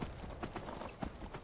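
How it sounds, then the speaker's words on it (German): Horse hooves clip-clop steadily while riding through the world of The Elder Scrolls V: Skyrim, a rhythmic, fairly close galloping beat that continues throughout with no talk over it. "Ich reite jetzt hier einfach durch."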